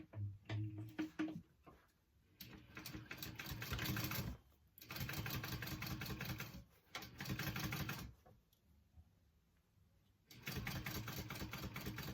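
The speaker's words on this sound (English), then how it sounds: "go ahead and stitch that closed" Sewing machine stitching a clutch bag closed, running in several bursts of rapid mechanical stitching with short pauses between them, close and clear.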